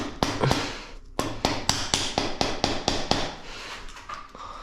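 A rubber mallet taps an Allen key seated in the shock absorber of an RC XC 32 car, a quick series of about a dozen sharp, close knocks in an uneven rhythm, with no talking.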